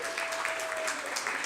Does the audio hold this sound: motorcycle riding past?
no